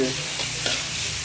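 Goat meat and spices for tongseng fry in a pan, a loud, close, steady sizzle with brief scraping stirs and no talk.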